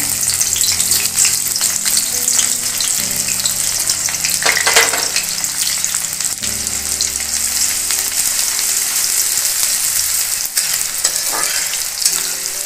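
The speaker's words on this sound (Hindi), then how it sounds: "अब हमारा तेल गरम हो गया है अब इसमें हम प्याज डाल देते हैं" Sliced onions fry in hot oil, a loud continuous close sizzle with occasional stirring scrapes and no voices.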